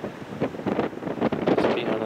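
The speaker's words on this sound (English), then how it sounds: "all of a sudden this gust picked up. Big gust." A sudden strong gust of wind buffets the microphone on a boat at sea after dead calm, a rough, roaring rush that surges and swells unevenly, loud and close.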